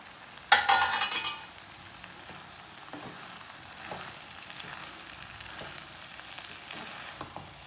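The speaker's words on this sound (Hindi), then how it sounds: "तो मकरोनियाँ डाल के ना 3-4 मिनट पकाना है।" Chicken macaroni cooking in a pan with ketchup, opening with a loud burst of sizzling as it is stirred, then settling into soft scraping and occasional utensil clinks against the pan, with no talking.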